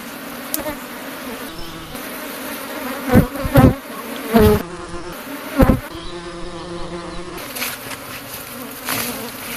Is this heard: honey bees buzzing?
yes